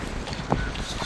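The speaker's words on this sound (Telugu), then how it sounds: "మంచి గాలి." Steady wind blows by Mudasarlova lake, a continuous broadband rush with mic buffeting and one brief bump midway, no talk.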